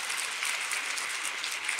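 Short burst of congregation applause during a Korean church Sunday sermon, dense even clapping from a large crowd heard alone for under two seconds.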